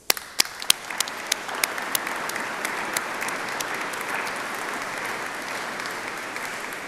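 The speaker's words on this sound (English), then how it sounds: "Could you please join me in giving them a round of applause?" Audience applause at a University of Exeter summer graduation ceremony, opening with a few sharp individual claps that swell into steady, dense clapping from a large crowd filling the hall for the full stretch.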